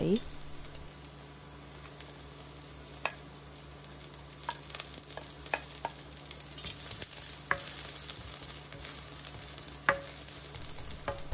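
Shallots and garlic stir-fry in a pot with a continuous soft sizzle, broken by scattered scrapes and taps of a utensil against the metal, heard close and fairly quiet.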